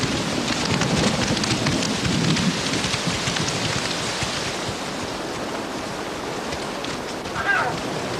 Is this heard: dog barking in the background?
no